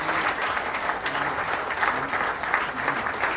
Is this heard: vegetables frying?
no